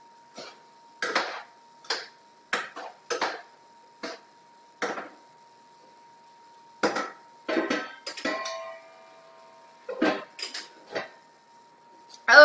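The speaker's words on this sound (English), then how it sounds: "I'm gonna give this a stir." Spoon stirring food in a pot during meal prep, a series of sharp clinks and scrapes in irregular bursts with pauses between, close and fairly loud, plus a faint steady hum.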